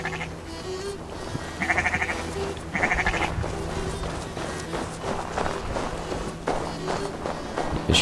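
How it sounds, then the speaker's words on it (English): Sheep bleat in Assassin's Creed Valhalla, a few short wavering calls standing out over a steady low game ambience, at moderate distance. "The sheep are following me."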